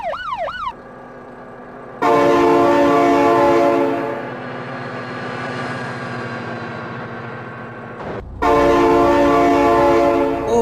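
Loud train horn in a BeamNG.drive driving game, a long sustained multi-tone blast that pauses briefly and then sounds again, up close, after a short rising and falling tone at the start.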